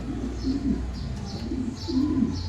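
A young male pigeon cooing in a loft, giving a series of low, throaty coos in repeated bursts, fairly close, with no voices.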